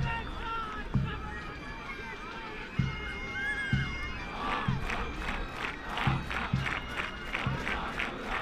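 School supporters of the home side, St Andrew's College in Grahamstown, chanting and cheering at a 1st XV rugby match against Dale College: a steady crowd roar with rhythmic rising chants, while a commentator speaks over it.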